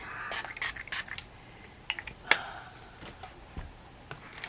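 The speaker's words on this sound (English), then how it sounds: "And then I'm going to use my flatter spray." Short hissing bursts of Flatter spray mist onto quilt fabric during pressing, several quick spritzes clustered early with a few sharper ticks and taps from handling, close and fairly quiet.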